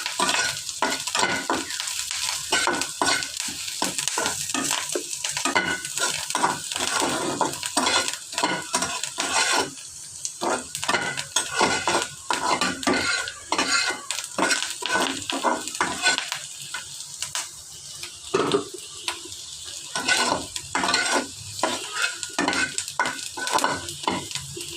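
Fried onion beresta is stirred in a frying pan, a spatula scraping in quick repeated strokes over a steady loud sizzle, with no talking.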